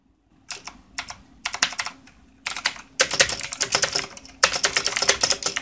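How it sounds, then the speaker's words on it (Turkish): Rapid typing on a GamePower Warlock mechanical keyboard with blue switches, close and loud, with crisp clicky keystrokes coming in bursts separated by brief pauses. "Bugün sizlere Game Power'ın Warlock Blue Switch'in mekanik klavyesini göstereceğiz."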